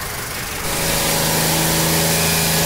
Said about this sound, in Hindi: तो फ्रेंड हम इस गाड़ी का रेस पकड़ के रखे हैं इंजन गर्म करने के लिए